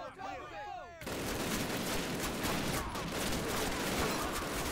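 Call of Duty (2003) gunfire around Brecourt Manor builds from a quieter opening into dense, sustained volleys of shots with sharp cracks layered over a constant rattle, loud and busy to the end.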